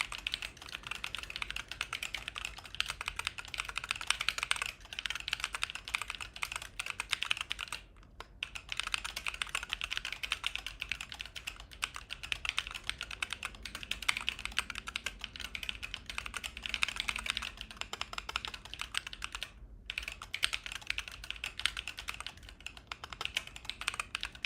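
Rapid, continuous typing on an ortholinear split computer keyboard, a dense stream of close, fairly quiet key clicks with two brief pauses and no speech.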